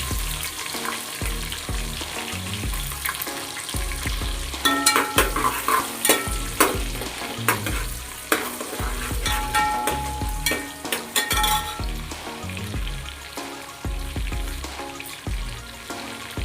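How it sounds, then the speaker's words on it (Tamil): Cumin, curry leaves and onions fry in hot oil for mor kuzhambu, a loud, crackling sizzle with repeated stirring scrapes and spatters close by throughout. "கருவேப்பிலை பொரிஞ்ச பிறகு வெங்காயத்தை போட்டுக்குங்க."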